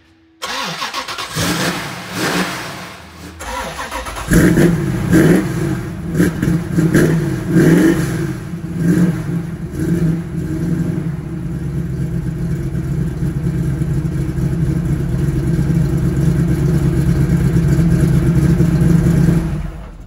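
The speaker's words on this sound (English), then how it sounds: "next car is my first red Sunbeam Tiger." A red Sunbeam Tiger cranks and fires on a cold start, blipping through several loud revs before dropping into a steady, rumbling idle heard up close with no talking.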